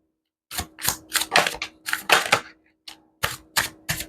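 Tarot cards are drawn and laid out in a series of crisp, close bursts of card handling separated by short pauses, with no talking.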